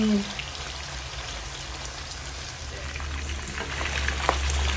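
A second batch of chicken wings crackles and sizzles steadily in hot oil while being stirred, a dense, even frying hiss close to the pan throughout.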